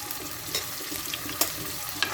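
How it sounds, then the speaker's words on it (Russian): A fork mashes a whole boiled potato for homemade soup, giving a few soft, brief scraping clicks over a steady background hiss, with no talking. "Вот так вот я ее просто вилкой разминаю."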